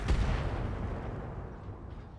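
Mech weapons firing in BattleTech, a heavy blast at the start followed by a dense rumbling roar that slowly fades, with no voices.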